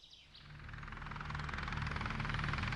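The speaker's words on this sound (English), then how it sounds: "Chopper incoming." A helicopter in the video game Halo MCC approaches, its rotor chop fading in from quiet and growing steadily louder and more rhythmic as it nears, with faint chirps early on.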